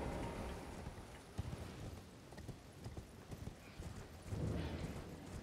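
Horse hooves clip-clopping in the video game Elden Ring, a rapid, fairly quiet rhythm of hoofbeats with a soft patter like rain behind it.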